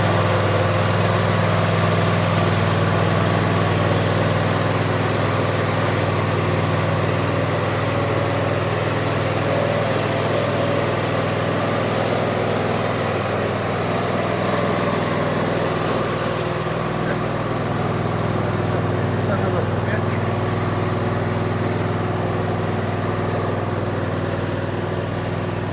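A 54-inch riding lawn mower engine runs steadily after starting, a loud, continuous droning hum that holds at an even level for the whole stretch with no pauses.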